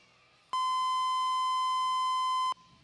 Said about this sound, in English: Made it to the buzzer.